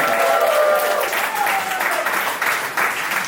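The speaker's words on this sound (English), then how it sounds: "Keep your round of applause here." A comedy club audience applauds and cheers loudly for a stand-up comedian in a live show, a dense burst of clapping throughout with a host's voice calling out over it.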